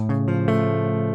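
A guitar chord on the bottom four strings with the index finger lifted off the barre, struck three times in quick succession and left to ring out, close and clear with no talking.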